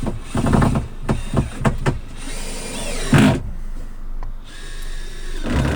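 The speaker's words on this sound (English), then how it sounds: "screw one in the top middle" A power drill drives screws into an overhead storage cupboard fitted inside a van, with several short whirring bursts followed by a longer run and a final burst, loud and close.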